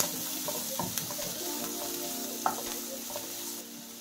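Chopped onion and grated carrot stirred together in a pan over a gas flame, giving a steady low sizzle broken by scattered scrapes and clicks of the spoon, with one sharper knock near the end and no talk.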